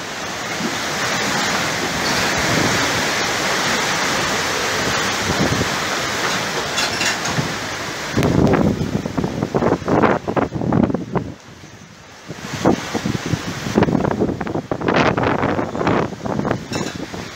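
Strong wind howls and roars across an open microphone, a steady broadband rush that swells into louder buffeting gusts with sharp bursts, briefly dropping before surging again.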